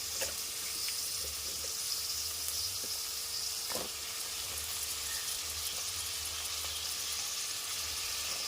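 Eggplant pieces fry with onions in a pan for chinta chiguru vankaya curry, a steady hissing sizzle with occasional stirring clinks and pops, close and continuous.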